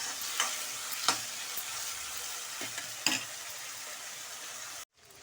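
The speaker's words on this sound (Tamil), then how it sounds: "பாருங்கள், நல்லா வதங்கிடுது." Sev tomato sabzi sautéing in a pan with salt, a soft continuous sizzle broken by a few sharp spatula clicks, then cutting off abruptly near the end; no voices.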